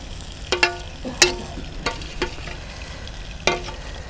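Mashed eggplant dropped into a hot pan with spring onions for baingan bharta, giving scattered sharp sizzles and stirring scrapes, a few distinct bursts over a quiet frying hiss.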